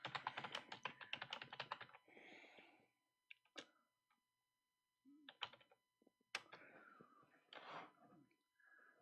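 Fingers type on a computer keyboard in quick bursts of close, crisp clicks, separated by short pauses, fairly quiet with no talking.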